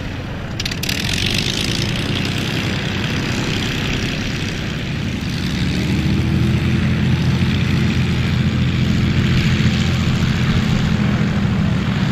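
A model airplane's small propeller engine drones steadily overhead, a continuous buzzing hum that shifts slightly in pitch as it passes, with outdoor ambience at an ultralight fly-in in Trutnov.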